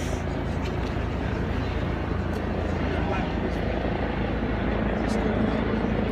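Helicopters flying overhead during a heavily covered news event, a loud steady rotor and engine rumble continuing throughout with no breaks.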